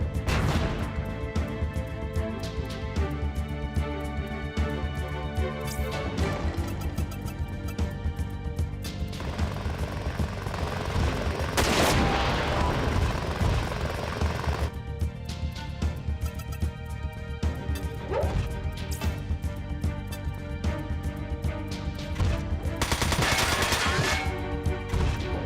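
Grenades and machine gun fire from mechs in Front Mission 4, a long, continuous barrage of rapid gunshots and crashing impacts over steady game music, with occasional louder blasts and no talk.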